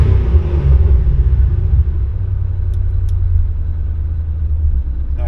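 A loud, deep V8 exhaust from a twin-turbo 2010 Crown Victoria P71 4.6 2V with cut-out mufflers open rumbles steadily up close, a thick low growl holding a constant idle-like drone.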